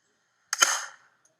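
A homemade potato cannon test-fires in a single sharp, loud bang that decays quickly, followed by silence.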